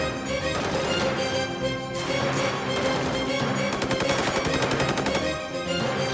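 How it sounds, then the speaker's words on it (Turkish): Sustained gunfire crackles throughout, rapid bursts of shots overlapping densely and loudly with no pauses. "Silah sesleri buradan geliyor."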